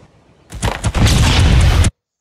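A grenade going off in an Unreal Engine 5 video game, a loud sudden burst of booming, crackling noise that holds for over a second and then cuts off abruptly.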